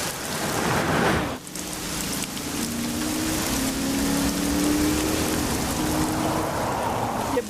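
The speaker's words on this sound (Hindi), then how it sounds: "एक तो आज बारिश भी बहुत तेज है" Heavy rain pours down steadily as a dense, loud hiss, briefly dipping once before continuing unbroken, with a faint low rumble beneath.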